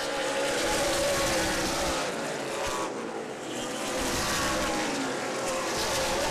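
Race cars circling the oval at Angola Motorsport Speedway during the Stan Perry Memorial 100-lap feature, a steady loud engine roar that dips briefly midway as the pack passes, continuous throughout.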